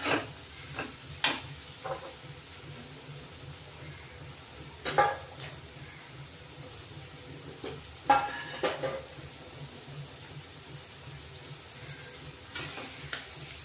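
Food is stirred in a pan with occasional scraping clacks of a utensil over a low, steady sizzle, with no talking.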